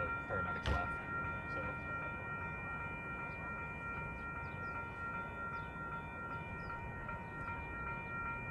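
Train stopped at a station after a fatal accident, with a steady rumbling idle and constant hum at moderate distance, plus a brief sharp clank or horn-like burst near the start.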